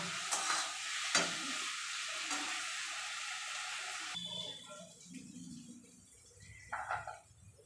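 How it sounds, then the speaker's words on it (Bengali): Spice paste sizzles in a hot pan while a utensil stirs and scrapes through it. The frying is loud and steady for the first half, then quieter with scattered scrapes and clinks. "মশলাটা ভাজা ভাজা হলে তারপরে নুন, হলুদ, লঙ্কা দেব"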